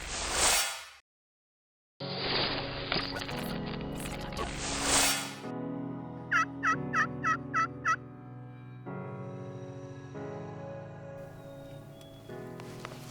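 Several loud, warbling wild turkey gobbles ring out from a nearby flock in Ontario, with a quick series of clucking calls in the middle over a quiet field background.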